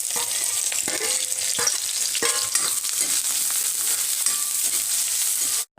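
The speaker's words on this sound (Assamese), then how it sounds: "আৰু এতিয়া মই বাকী যিখিনি সামগ্ৰী আছিলে এইখিনিও ফ্ৰাই কৰি ল'ম।" Whole cumin, onion and spices frying in hot oil in a kadai, with a dense crackling sizzle broken by occasional spatula scrapes, close and steady throughout before cutting off abruptly.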